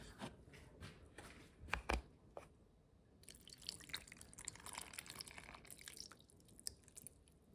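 An egg and milk mixture pours and splashes steadily over noodles for mac and cheese after a few soft drips and taps, a wet continuous trickle close by.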